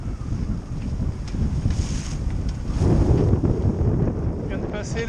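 Wind rushes across a Dufour 3800 sailboat under sail in 13 to 15 knots of breeze, a loud, continuous buffeting roar with low gusty rumbles and water wash, swelling midway and steady to the end.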